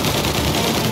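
Dense automatic gunfire from the video game Mafia: Definitive Edition, a continuous loud rattling burst of rapid shots that fills the whole moment with no pauses.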